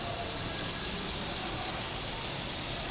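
Continuous soft hissing and sizzling of hamburger meat frying in margarine in a pan, steady and faint with no voices.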